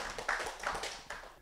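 A church congregation breaks into scattered clapping, a dense patter of many hands that sounds slightly distant in the hall and fades within a second or two.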